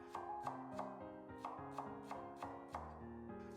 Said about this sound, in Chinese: 另外一半再改刀切成洋葱碎